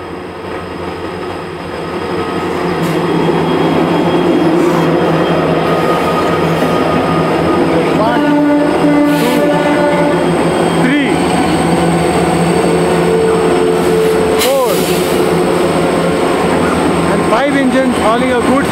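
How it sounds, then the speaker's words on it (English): A goods train passes close on the railway tracks near Doodhsagar, building into a loud continuous rumble with wheel squeals and clanks, with voices faintly underneath. "Hauling a goods train."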